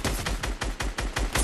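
Gunshots fire in a video game, a close, loud series of about eight sharp shots in a fast even rhythm, with no talking over them.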